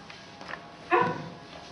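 A pet dog named Ull de Vellut at a neighbour's house gives one short, sharp bark after a few faint yips, fairly close in a quiet room.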